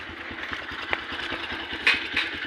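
A Bullet motorcycle idles nearby with a steady, rhythmic thumping pulse, fairly quiet, and a faint higher rattle rises briefly near the end.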